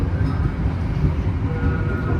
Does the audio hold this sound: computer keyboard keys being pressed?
no